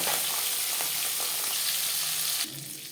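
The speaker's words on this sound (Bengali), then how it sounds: "পরের মাছ একইভাবে ভেজে নেব।" Rohu fish fries in hot oil, giving a loud, dense, steady sizzle that drops suddenly to a quieter hiss near the end, with no voices.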